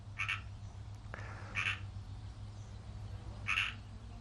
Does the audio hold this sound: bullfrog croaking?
yes